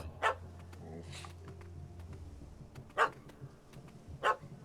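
Three sharp dog barks spaced apart, from a small yappy dog in the video game The Witcher 3, loud and close over a low steady game background hum.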